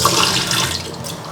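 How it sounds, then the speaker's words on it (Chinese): Tap water runs steadily over brown and white rice being rinsed in a kitchen sink, a close, continuous splashing wash with no voices. "加入清水给它淘洗干净"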